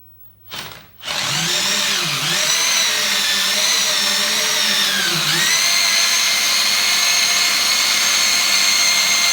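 A 14.4-volt cordless drill spinning a permanent-magnet generator whirs loudly and steadily after a brief burst at the start, its pitch dipping twice as the load changes, with no talking.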